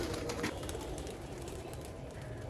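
A pigeon coos softly on a rooftop, with low, faint, repeated throaty calls over quiet background ambience.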